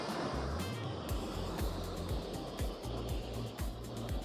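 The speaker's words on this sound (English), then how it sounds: "Watching the waves crash and surge around the base of these stacks was pretty incredible." Ocean waves crash and surge around tall rock sea stacks off the coast of Madeira, a steady loud wash of surf with rhythmic low thumps beneath a windy roar.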